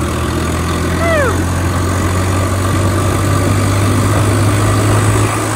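A loaded tractor hauling soybeans drones steadily on a road, its loud low engine constant throughout, with a brief rising horn-like squeal early on.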